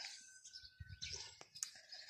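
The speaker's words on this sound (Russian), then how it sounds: "Я полю, слушаю пение птиц." Small birds chirp and tweet in a sunny vegetable garden on a hot summer day, faint and scattered, with light rustling and a couple of close clicks while weeding.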